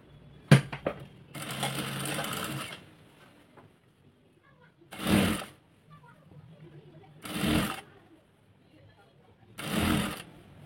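A sewing machine stitches a converted pleated top in several separate bursts, each a few seconds of steady whirring rattle with quiet pauses between runs.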